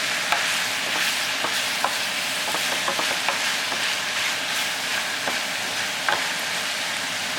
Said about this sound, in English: we're going to stir the spaghetti sauce here just a little bit